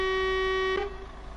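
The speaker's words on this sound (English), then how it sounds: "when you pip the horn, you get the... Well, that's if you press it quickly. If you just hold it and press it and hold it" A truck horn held down in the video game Truck Driver gives a loud, steady, tonal blast. It sounds for most of the clip, then cuts off abruptly and leaves a low engine rumble.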